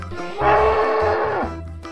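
A mother water buffalo, among farm animals being loaded onto a trailer truck, gives one long, loud, drawn-out moo that swells and then tails off, with no voices over it.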